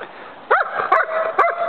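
A small puppy gives three short, high yips and barks spaced across under a second, close and fairly loud, with a soft whine between them.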